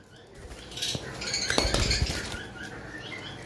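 Lovebirds, including a male Double Red Pastel Pineapple mutation, flutter and flap their wings while flying inside a cage, giving a burst of close rustling wingbeats that swells in the middle, with no talking.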